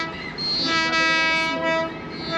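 A steam train passing through Kampot, Cambodia sounds a long, loud, steady horn with a rich, harmonic tone that holds for several seconds, over a continuous rumble of the rolling train.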